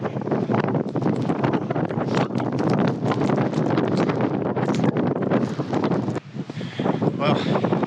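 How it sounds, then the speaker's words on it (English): Strong gusting wind buffets the microphone on Tryfan's north ridge during a snowy winter blizzard, a loud, roaring, unsteady rush with a short lull near the end, while a voice talks underneath. "That got windy quickly."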